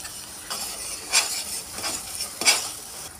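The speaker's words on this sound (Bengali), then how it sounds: "এখন আমি নাড়াচাড়া করে পেঁয়াজটাকে বাদামি কালার করে নিচ্ছি।" Sliced onions frying in foaming mustard oil and stirred until brown, soft sizzling broken by several sharper scraping strokes of the spatula against the pan, quiet and close.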